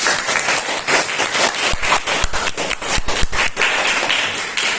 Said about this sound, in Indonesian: Beri tepuk tangan dulu untuk Tina.